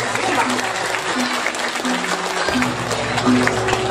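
Audience applause at a Balinese arts and culture performance, a steady crowd clapping throughout with a voice speaking over it and a faint tonal hum underneath.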